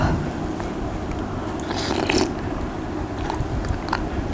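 Large, hard-shelled cockles bitten with a steady crunching chew up close, rising to a louder crisp crunch midway through, with no talking.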